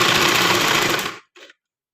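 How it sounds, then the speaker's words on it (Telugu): Sewing machine stitching around the edge of a small girl's frock, a fast loud continuous whir for about a second before stopping abruptly, followed by one short mechanical burst. "ఇప్పుడు చుట్టూరా ఇది మలిపి చుట్టూరా కుట్టు వేస్తానండి."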